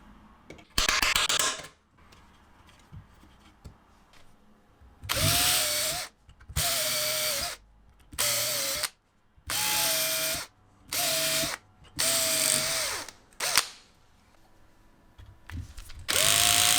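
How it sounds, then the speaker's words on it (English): A power drill bores screw holes into a portable Bluetooth speaker enclosure in about eight short, loud bursts of whining motor separated by quiet pauses, each burst holding a steady pitch that sags as the bit bites. "I mark and drill out the screw holes."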